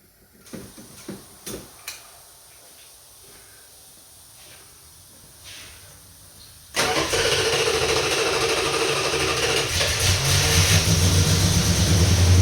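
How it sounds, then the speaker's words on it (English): A Plymouth Roadrunner has its engine started while fuel is checked going into a bottle: a few clicks and soft handling noises, then a sudden loud crank and catch into a rough, steady idle that grows slightly. "let me start the car up"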